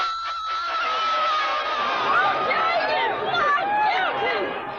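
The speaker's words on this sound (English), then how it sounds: "Here the crowd is mostly jubilant." Jubilant crowd outside a Los Angeles courthouse at the OJ Simpson verdict, a dense continuous roar of shouting, screaming and cheering voices close by, with no single voice standing out.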